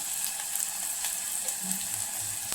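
Salt, turmeric and Kolhapuri chutney fry in a pan for a drumstick curry, making a steady, close, continuous sizzle with no voices.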